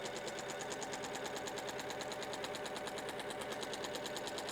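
A sewing machine stitches a quilt along a straight line with the help of a weightless quilter, its fast needle chatter pulsing evenly, continuous and fairly faint throughout.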